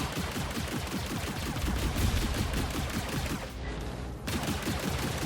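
Spaceship guns fire in Star Citizen, a dense, continuous rattle of rapid shots running almost throughout, with a brief dip near the end before the firing resumes at full loudness.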